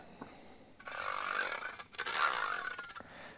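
Two long, rasping strokes of a blade drawn through a sharpener, each a gritty scrape lasting about a second, after a faint tap.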